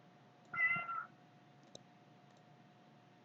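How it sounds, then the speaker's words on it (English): A house cat gives a single short, clear meow at moderate distance over a quiet background hum, followed by a couple of faint ticks. "It's my cat."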